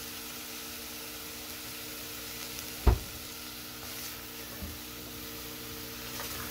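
Onions frying in a pan for a homemade lasagna meat sauce, giving a faint, steady sizzle with one brief knock partway through and no talking.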